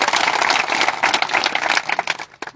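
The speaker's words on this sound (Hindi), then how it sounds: "जोरदार ताली मोदी साहब के लिए" Loud crowd applause breaks out at an outdoor BJP political rally in Bhomag, Reasi district, dense and sustained for a couple of seconds before tapering off at the end.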